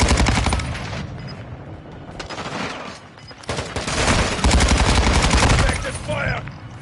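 Dense automatic gunfire in the Call of Duty shooter game, rapid bursts of loud shots in quick succession with brief lulls, and in-game voices calling out between volleys.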